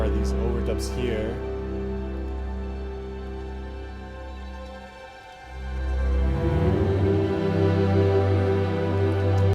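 Layered string overdubs played sul tasto with soft, fast tremolos form a dense, sustained, dark texture that thins briefly midway and then swells back louder, with no voices.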